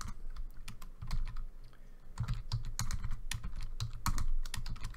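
Typing on a computer keyboard during Python coding, a close, steady patter of keystrokes in irregular bursts with heavier thumps of larger keys mixed in, alone without talk.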